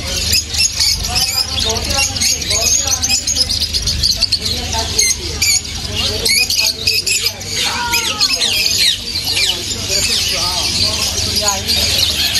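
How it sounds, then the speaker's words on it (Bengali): Many birds squawk and chirp continuously in a busy wholesale bird section of the Souq Waqif market in Qatar, loud and close, with people talking in the background. "এই পাখিগুলো অনেক সুন্দর।"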